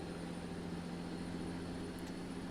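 A truck engine in American Truck Simulator drones at a steady low pitch with a constant hum and no changes, heard alone and with no voices.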